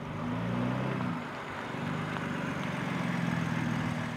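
A 2020 BMW X4 M Competition with a 3-litre inline six-cylinder engine and sports exhaust idles and burbles close by. The low exhaust drone is steady, with slight swells in engine note.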